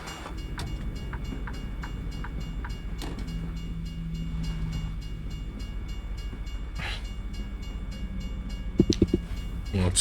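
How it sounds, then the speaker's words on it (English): Freight train in American Truck Simulator rolls past as a steady, heavy rumble with faint clacking and a brief horn-like tone, under a few short clicks near the end. "Big cargo train."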